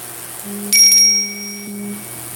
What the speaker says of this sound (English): Who's texting me?